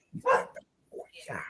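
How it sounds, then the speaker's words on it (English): A dog barks a few times near a live-streamed conversation, with sharp yips mixed in among a voice. "It's not a podcast from the pet stream without dogs barking."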